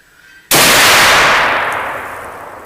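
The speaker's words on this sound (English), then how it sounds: "safety cartridge went bang" A muzzleloader rifle fires a self-ejecting safety cartridge loaded with smokeless powder at an outdoor 100-yard range: one sharp, loud report that cuts in from near silence and then rolls off into a long fading echo.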